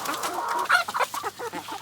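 Barred Rock chickens and young chicks cluck and chatter close by, a quick run of short, choppy calls with brief pauses between them and no talk over them.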